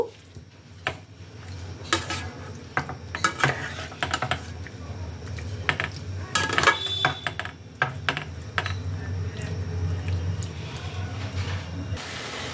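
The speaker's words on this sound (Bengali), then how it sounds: "এটাকে এবার 2-3 মিনিট ধরে ভালোভাবে নাড়াচাড়া করব।" Marinated chicken stirred in a pan over a high gas flame, with irregular scrapes and clinks of a utensil against the pan over a low steady hiss, the strokes spaced unevenly throughout.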